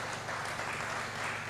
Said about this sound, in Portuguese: As palmas engrandecem o Rei Jesus,